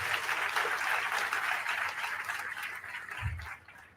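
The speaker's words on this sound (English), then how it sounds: "can we give him another round of applause?" Audience applause after an inaugural university lecture, a dense steady clapping from a large hall that carries on for about three seconds before thinning and fading toward the end.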